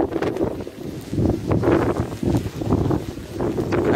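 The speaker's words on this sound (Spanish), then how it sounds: "Es que hay mucha brisa hoy, loco." Strong breeze roaring steadily past a microphone in open air while a large Dominican chichigua kite flies, with continuous buffeting gusts that swell and ease, loud and close, no voices.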